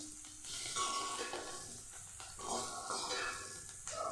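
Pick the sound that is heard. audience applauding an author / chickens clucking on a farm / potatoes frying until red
potatoes frying until red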